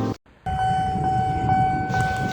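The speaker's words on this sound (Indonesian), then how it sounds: "Wah, baru kali ini aku naik kereta." A train rolls along its rails, heard from inside a carriage as a steady, loud rumble with a faint ringing tone running through it for the whole stretch.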